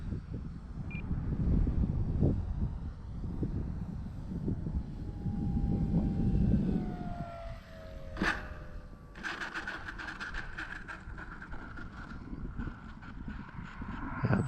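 A small E-flite Cherokee RC model airplane flies in strong gusty wind, its electric motor whining steadily and shifting pitch as it passes, under constant heavy wind buffeting on the microphone.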